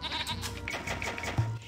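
A single sheep bleats briefly, a short wavering animal call heard alone near the end amid a steady low background.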